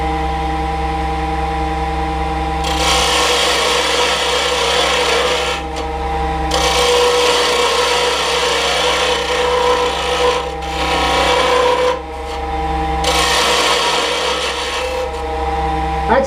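Rikon carbide lathe tools turning wood on a lathe spinning around 1800 to 1890 RPM, a steady close scraping rasp over a constant motor hum, the cutting pausing briefly a few times.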